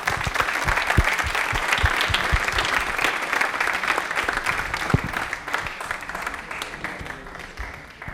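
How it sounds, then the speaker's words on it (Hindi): A studio audience at a Rajasthani television quiz show gives a round of applause, many hands clapping in a thick, continuous patter with a few sharp nearer claps, holding steady before easing slightly toward the end. "तालियां एक बार जोरदार जैन के लिए।"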